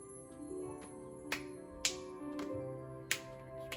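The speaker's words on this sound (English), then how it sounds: "let's sing it one more time with patting and clapping" Hand pats and claps keeping a pat-clap-clap rhythm for a children's song, heard as a few sharp, crisp claps spaced irregularly over soft sustained tones.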